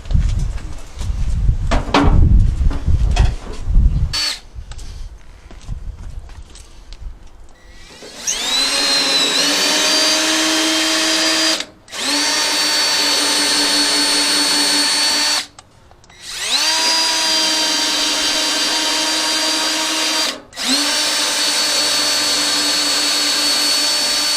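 A power drill bores through car fender parts while a Hudson Hornet's front end is assembled. After some clattering handling, the drill whines loud and close in three long sustained runs, each stopping briefly between bursts.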